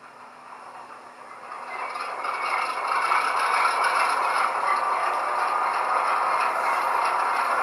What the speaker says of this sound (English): I have switched the default Tier 4 prime mover with the Dash 8 prime mover just because I like how the Dash 8 prime mover sounds.